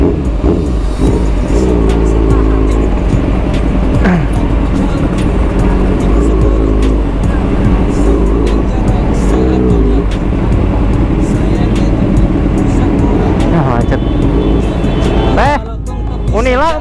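Cars crawling in a traffic jam, a loud continuous rumble of engines with occasional revving and passing vehicles, while people talk over it throughout.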